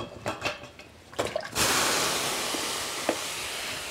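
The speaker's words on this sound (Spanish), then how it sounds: "Aquí le voy a poner la carne." Meat goes into a pot of water for a ranch-style shredded-beef stew: a few soft clinks and knocks, then a steady close wash of splashing, churning water that holds to the end.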